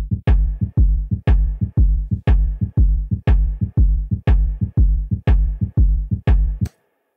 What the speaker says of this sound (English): But as soon as we enable the Haas effect,